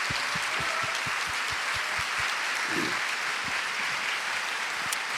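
Church congregation applauding the pastor at the close of a multi-day revival service, a steady, dense crowd of clapping hands filling the room at moderate distance, with no voices over it.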